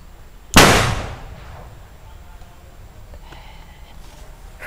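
A homemade spirit-fuelled firecracker bursts once with a sharp, loud bang that decays over about a second, followed by quiet outdoor ambience and faint distant noises.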